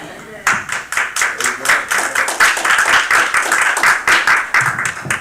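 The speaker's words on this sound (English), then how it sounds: "let's give the Lord another hand clap of praise" A church congregation at an evangelist training luncheon claps in rhythmic bursts of hand clapping praise, many hands close and lively throughout, with voices mixed in.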